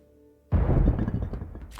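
A sudden explosion bursts from a ship's hull in the Beacon Pines video game, a loud, deep booming blast with a crumbling, rumbling tail that fades over about a second.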